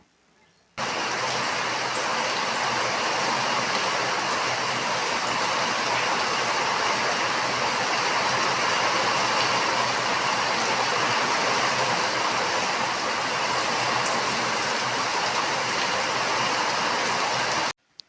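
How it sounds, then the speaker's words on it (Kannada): Heavy rain pouring outside a house, a dense steady roar of water that starts abruptly, holds constant and loud, and then cuts off, with no voices. "ಇನ್ನು ಹೊರಗಡೆ ಫುಲ್ ಮಳೆ ಬರ್ತಿತ್ತು"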